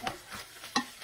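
Curry paste is stirred into meat in a pan, giving several quick, close scraping strokes with a faint sizzle underneath and no voices.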